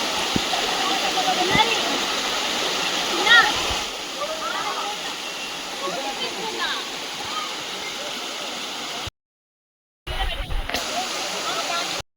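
Kona waterfall roars in a steady broadband wash of falling water, loud and continuous, with faint voices beneath it and a brief dropout near the end.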